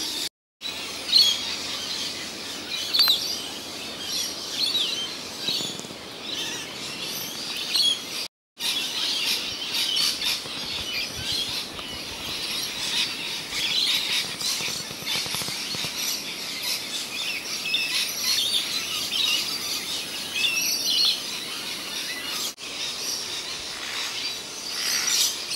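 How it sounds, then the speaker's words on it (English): Agitated birds calling outdoors on rural property in Bilpin, New South Wales, a continuous mix of chirps and squawks over an insect-like buzz, moderately distant, with two brief dropouts and no talking. "The birds in the background, they're not happy"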